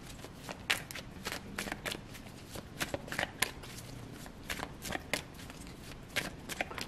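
Tarot cards being shuffled by hand, a quick run of crisp riffling flicks and soft papery slaps in close, quiet repeated bursts with no talking.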